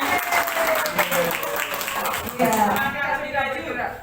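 An audience at a positive school culture outreach session claps together, dense broadband patter filling the room while other voices and a faint tone run underneath.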